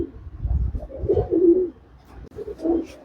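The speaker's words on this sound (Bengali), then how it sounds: "এই হচ্ছে চেন্নাই পায়রা অরিজিনাল ব্রিড" Chennai breed pigeons coo close by, a series of low, throaty rolling calls with a short pause between bursts.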